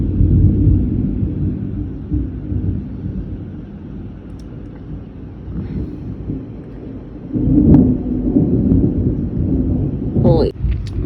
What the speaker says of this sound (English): Woken up by thunder and unable to get a full night's sleep.